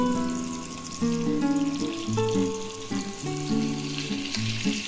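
Green beans fry noisily in a pan for semolina pulao, a continuous bright sizzle that runs the whole time under a melodic backing.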